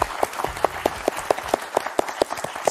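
Studio audience applauding as a host is welcomed onto a television game show set, brisk rhythmic clapping with a few sharp, regular accented claps standing out above the dense crowd, close and lively.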